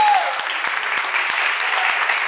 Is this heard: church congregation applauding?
yes